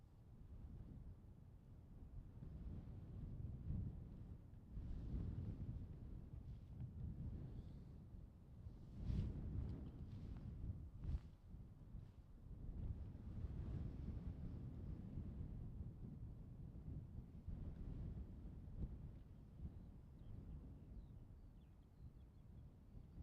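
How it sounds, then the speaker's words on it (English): Wind blows and buffets across an airport runway at night, a continuous low rumbling roar with gusty swells and muffled thumps, fairly faint and steady throughout. "the wind's also picking up quite a bit"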